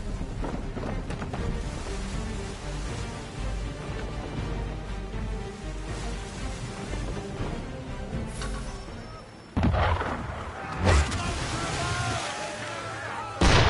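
Enemy ship cannon fire in the Assassin's Creed 3 video game at sea, booming shots and splashing water over a steady rumble of waves, with a sharp louder blast near the end.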